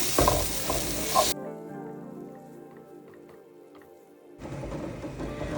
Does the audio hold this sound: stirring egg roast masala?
yes